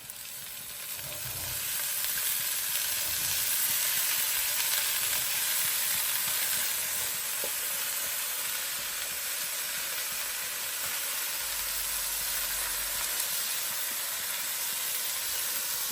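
Green peas sizzle in a hot pan for a homemade Indian mixed vegetable curry, a loud, continuous frying hiss that holds steady throughout with no talking.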